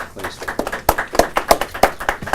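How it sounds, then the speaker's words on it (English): Scattered hand clapping from a small crowd at a City of Albuquerque news conference held by Mayor Richard J. Berry, applauding the Matthews family; sharp, irregular claps sound moderately close over a low room murmur, with no talking on top. "applaud the Matthews family"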